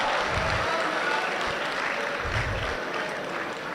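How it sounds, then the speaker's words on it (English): Audience at an education summit and graduation ceremony clapping for a woman on stage, a broad wash of applause with some crowd murmur and a voice mixed in underneath. "Please clap for her, clap for her,"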